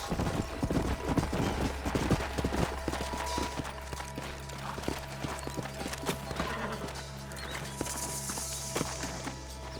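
Steady clip-clop of horse hooves walking on hard ground in Red Dead Redemption, close and continuous, with a horse whinnying faintly in the background over low ambient noise.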